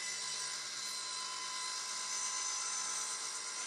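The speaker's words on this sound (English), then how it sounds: "Start the saw and let it come to full operating speed. Then slowly raise the blade until it pierces the workpiece." An older table saw without a modular guarding system runs at full speed as its blade rises through and cuts a workpiece, giving a steady high-pitched whine that holds without a break for the whole stretch.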